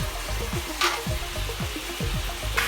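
Beef strips for fajitas sear in a hot home-kitchen pan, a steady close sizzle and crackle running throughout, with a couple of brief brighter hisses as the meat shifts.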